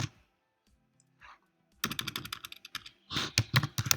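Keys clatter on a computer keyboard in a quick, close run of taps, starting after a near-silent pause and breaking into two dense bursts of typing, with no voice over it.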